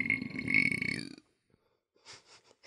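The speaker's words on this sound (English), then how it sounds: "Just burping into the air." A person burps once, loud and close, with a rough, drawn-out belch that cuts off into silence, followed by faint breathing.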